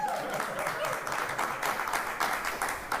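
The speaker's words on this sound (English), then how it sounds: "I love that the audience is cheering low standards" A studio audience cheers and applauds on a daytime talk show, a steady burst of clapping with scattered shouts, mixed with people talking.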